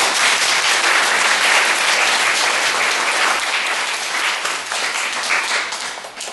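Steady, loud applause fills a church as the congregation claps at a Sunday morning service, a dense wash of many hands that holds throughout and eases only slightly toward the end.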